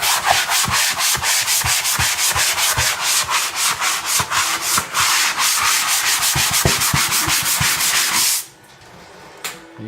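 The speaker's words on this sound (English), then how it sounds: "You see a lot of dust as you're sanding this down." A hand sanding block rubs back and forth over spackled drywall in fast, regular rasping strokes, close and loud, stopping abruptly near the end.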